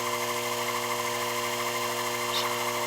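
A milling machine cuts a main mast head, giving a steady, continuous high-pitched whine with a constant motor hum underneath, close and even for a few seconds.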